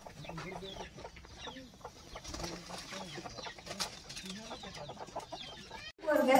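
Free-range village hens, some raised at home and some bought, cluck and call intermittently over steady outdoor background noise, with faint voices.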